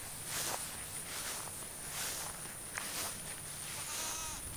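Goats shuffle and step about nearby, with rustling footfalls and a few short bleats breaking through the movement.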